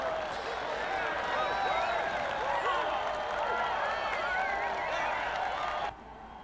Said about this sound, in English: The applause from the team and the fans is definitely deserved.